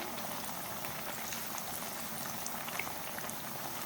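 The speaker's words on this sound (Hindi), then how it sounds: "अब मीडियम फ्लेम पर फ्राई करेंगे" Potato fritters, aloo pakoras, fry in hot oil over a medium flame, giving a steady, dense bubbling sizzle with fine crackles, close and continuous without talk.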